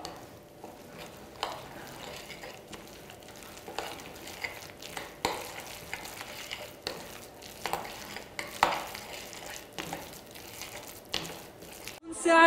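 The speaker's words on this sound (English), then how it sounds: "all you do is mix all of that together" Salt, pepper and other burger ingredients, likely tuna, being stirred together in a bowl, giving a steady scraping, mixing clatter with irregular soft knocks of a utensil against the bowl, close and fairly quiet.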